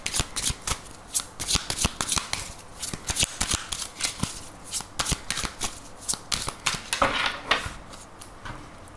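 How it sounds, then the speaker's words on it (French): Tarot cards shuffled by hand at close range, a rapid run of crisp riffling and slapping bursts in an uneven rhythm, with no talking. "je vais reprendre les cartes et on va voir aussi les messages du tarot"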